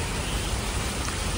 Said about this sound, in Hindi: बारिश ही चल रही है